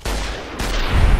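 Gunfire in Fallout: New Vegas against geckos, two loud, close shots about half a second apart, each with a short ringing tail.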